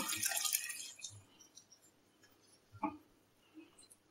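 Home-brewed dark ale is poured into a pot to strain out the hops, a brief burst of splashing liquid at the start, then sparse drips and small spatters, quiet and close.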